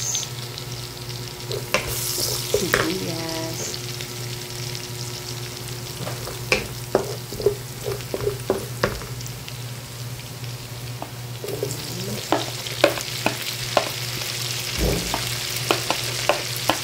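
Onions sizzle steadily in a pan while being sautéed for ginisang ampalaya with sotanghon and chicharo, with repeated sharp clinks and scrapes of stirring over the constant frying hiss.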